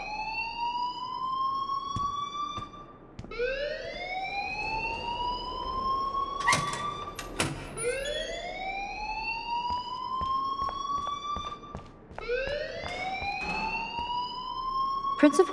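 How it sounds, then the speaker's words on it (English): An alarm in Life Is Strange wails in repeated rising siren-like sweeps, loud and continuous, with a few clanks and sharp noises in between. "please turn off that alarm since that's your job"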